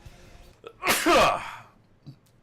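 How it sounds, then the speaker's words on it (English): A single loud, close sneeze with a short breathy build-up and a sharp explosive release, heard during a casual gaming session. "I'm gonna sneeze."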